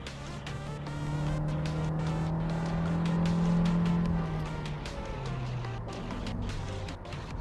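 A Honda Fit Shuttle hybrid with a small 1.3 engine drives along, its steady engine hum and road noise rising slightly and then easing, close and continuous with no talking.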